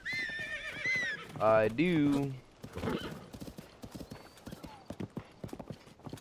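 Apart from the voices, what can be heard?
horse whinny and hooves in a video game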